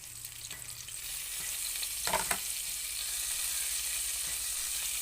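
Spinach tossed into softened onions in a pan, sizzling steadily for a few seconds with a short burst of scraping stirs near the middle, no one talking.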